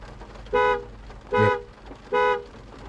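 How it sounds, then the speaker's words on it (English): A 2025 VinFast VF8 Plus sounds its horn remotely, giving three short, evenly spaced honks with brief gaps between, clear and fairly near against quiet surroundings. "It'll give you like 3 little honks"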